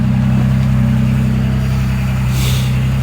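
Ford 3-liter EcoBoost engine running at a steady idle close by, a loud even low hum that holds without variation throughout, with a faint rise in hiss near the end.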